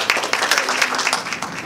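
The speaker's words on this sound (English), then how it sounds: "I would like to ask you to give a round applause of welcome to Mr." An audience at a Dr. B R Ambedkar Room celebration in Surrey Centre Library, Canada, claps in welcome for a guest, a brief close burst of many hands with uneven peaks.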